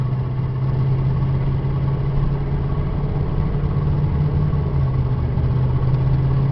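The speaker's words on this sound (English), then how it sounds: "I say it's got a very little exhaust leak." A Jayco Eagle 29 ft Class C motorhome engine idles steadily with a slight exhaust leak, a constant low droning hum held close and even throughout, with no talking.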